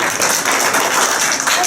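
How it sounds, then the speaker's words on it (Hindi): Audience at a village gathering in Jidana applauds on cue during an advocate's address, a dense, steady burst of clapping lasting under two seconds. "ताली बजाओ, एक बार ताली हो"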